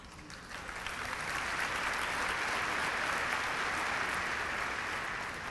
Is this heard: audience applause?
yes